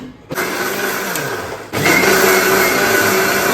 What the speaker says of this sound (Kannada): ಇವಾಗ ಮಿಕ್ಸಿ ಮಾಡೋಣಂತ ಫಸ್ಟ್ ಪೇಸ್ಟ್ ಮಾಡ್ಕೊಳ್ಳೋಣ